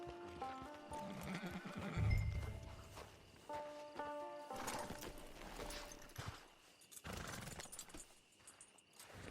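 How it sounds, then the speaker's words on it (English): A horse in the Red Dead Redemption 2 video game clip-clops at a walk and gives a whinnying neigh, hoofbeats plodding steadily at moderate distance amid quiet ambient game sound. "It's your horse."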